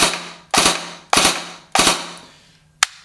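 Krytac Kriss Vector airsoft gun firing sharp two-round bursts, three quick paired cracks in a row and then one lone shot, close and loud with no talking.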